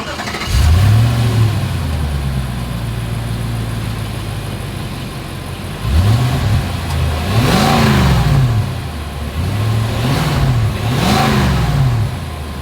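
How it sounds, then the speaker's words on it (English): A 2023 Nissan Armada with a single exhaust starts and revs its engine several times, deep throaty swells rising and falling over a steady idle, close and loud. "As always, here is that exhaust clip."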